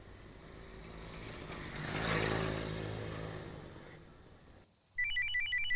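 A mobile phone ringtone for an incoming call chirps in a repeating electronic pattern, loud and close, coming in after a swelling rumble of passing traffic fades.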